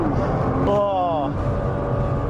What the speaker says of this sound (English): Welcome to your first R mode launch control.